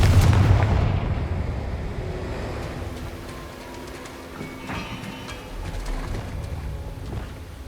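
A Confringo blasting curse explodes in Hogwarts Legacy, a loud booming burst that decays into rumbling debris and scattered crackles.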